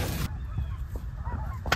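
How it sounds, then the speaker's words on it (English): Scattered goose honks call out at moderate distance during a goose hunt, over a steady low outdoor rumble, one louder honk near the end. "I hear a whole mess of geese to our left right now."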